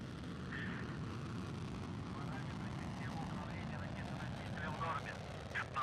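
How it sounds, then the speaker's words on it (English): A Soyuz 2.1A booster lifts off from the Baikonur Cosmodrome carrying the Progress 75 cargo ship, heard as a faint, distant, continuous low roar and rumble that holds steady throughout. "Liftoff of the 75th Progress resupply ship on a fast-track 2-orbit flight to the International Space Station."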